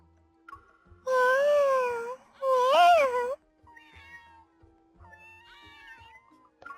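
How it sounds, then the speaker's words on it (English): Two loud, drawn-out cat meows from a cat swarm in the video game Love & DeepSpace, followed by softer, higher mews from other cats in the background. "What are you meowing about, kitty cat?"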